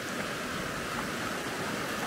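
Waterfall on a mountain route near the Silvretta pass, a steady, dense rush of falling water that fills the scene evenly and continuously with no pauses.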